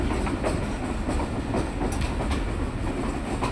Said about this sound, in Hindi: हमारी ट्रेन पहुंच चुकी है अटक सिटी जंक्शन रेलवे स्टेशन पे